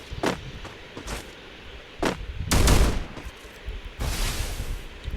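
Winchester rifle gunfire in the video game Free Fire, several sharp separate shots with one heavier blast midway, plus a longer burst of noise near the end.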